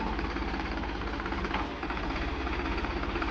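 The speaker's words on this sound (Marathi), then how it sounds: "ट्रॅक्टर आता आलेलं आहे." A tractor arrives at a steep rural slope where an onion-laden tempo is stuck, its engine giving a loud, continuous diesel rumble and knock nearby.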